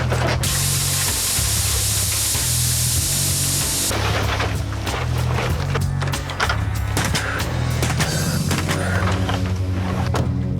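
Parging sprayed onto a basement wall: a loud, continuous hiss of spray over a low mechanical drone for the first four seconds, followed by rough scraping and clattering work sounds.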